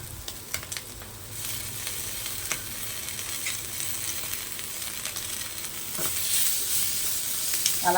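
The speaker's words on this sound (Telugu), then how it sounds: "ముక్కకి ఉప్పు కారం పట్టే వరకు బాగా వేయించుకుందామండి." Chicken pieces frying in a pan with salt and chili powder, giving a steady close sizzle that swells louder toward the end, with occasional stirring clatter and no talk.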